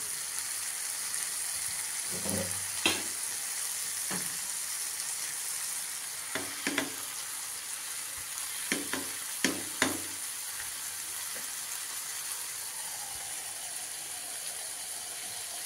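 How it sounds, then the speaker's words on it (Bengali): Rolled cabbage leaf parcels frying in a little oil, a constant soft sizzle with occasional clicks and taps of placing and stirring, no voices. "একটু তেল দিলাম, দিয়ে আমি এবার এই পাতাগুলো মোড়ানো এইগুলো আমি সব এক এক করে দিয়ে দেবো"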